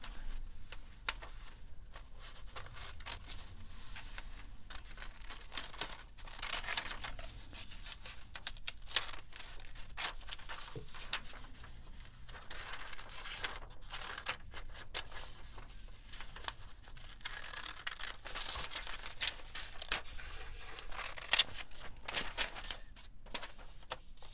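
Scissors fussy-cut paper for a glue book, giving a long, quiet run of small snips, rustles and crinkles that stays uneven and close for over twenty seconds.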